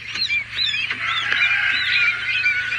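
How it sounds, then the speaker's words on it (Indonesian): Newly hatched quail chicks calling: repeated high, thin chirps over a steady background hiss, close and fairly loud, with no talking. "Ini burung puyuh ini"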